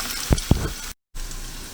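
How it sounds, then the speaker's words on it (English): Onions and garlic scapes sautéing in a pan give off a close, steady sizzle, with two sharp stirring knocks near the start. A brief full silence cuts in midway, then the frying hiss resumes. "So that was a couple minutes of sauteing of the onions and garlic scapes."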